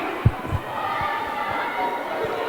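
A crowd roars at a roller derby match during a power jam, a loud, sustained wash of voices with dull thumps and knocks from the track below it.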